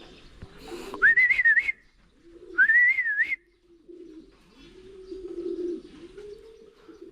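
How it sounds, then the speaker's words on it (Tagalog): A pigeon coos softly nearby in a garden plot, with two higher whistle-like calls rising over low cooing and faint background murmurs. "ayun yung isa nating kalapate, oh"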